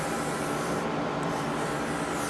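A hand saw cutting wood while building a boat's navigation station desk, a loud, steady, unbroken rasping that holds one level throughout, with no talking.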